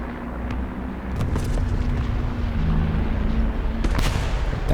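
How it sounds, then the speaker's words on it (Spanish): Heavy IS-3 tank cannon blasts in War Thunder boom over a rumbling engine drone, with sharp explosive hits at intervals and a louder burst near the end. "Le está disparando al aliado"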